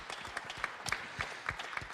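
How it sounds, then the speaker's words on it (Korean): A church congregation claps together after a prayer during a spring revival service in a main sanctuary, a short burst of scattered, moderately loud hand claps filling the room with no voices over it. "하나님께 감사 영광의 박수를 크게 올립니다."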